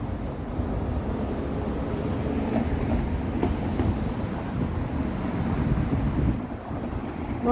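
A Toronto streetcar rumbles past on a city street with a steady rolling roar and faint rail clatter, close by, with some wind buffeting the microphone.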